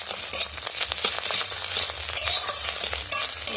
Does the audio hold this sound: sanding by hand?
no